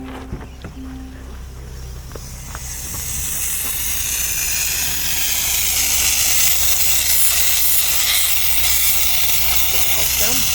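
Air rushes out of a cut valve stem on a 2025 Land Rover Defender 110 tire during an off-road test, a hiss that swells and holds loud and steady under low background rumble.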